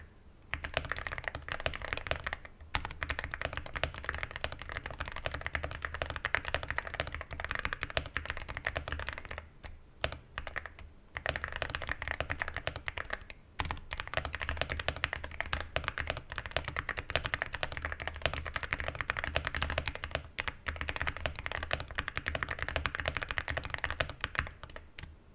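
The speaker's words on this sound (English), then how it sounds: "let's hear some typing sound tests of the Yunzii" Rapid, continuous clacking of a Yunzii AL66 mechanical keyboard with Milk switches, with brief pauses between bursts of fast typing, close and crisp.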